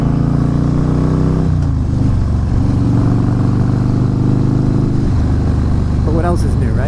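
Road traffic on a mountain pass, a low, steady engine rumble with revving surges close by and vehicles idling and moving throughout.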